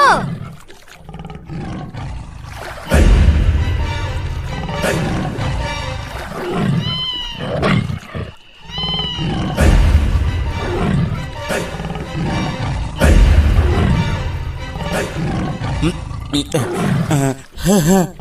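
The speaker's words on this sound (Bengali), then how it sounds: "ওই দেখো, বাঘে ডাকছে" Deep, rumbling roars of a Royal Bengal tiger in the Sundarbans, in an animated cartoon, recur several times over steady background noise, with voices talking in between.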